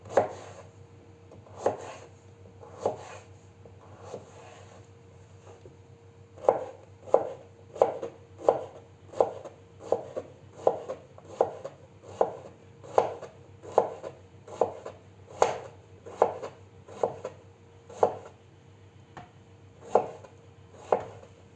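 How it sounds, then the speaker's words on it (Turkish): Steady knife chops on a cutting board as vegetables are diced into small cubes, sharp regular knocks in a brisk rhythm with a few short pauses, close and clear with a low background hum. "Küçük küçük küp şeklinde doğrayacağız arkadaşlar."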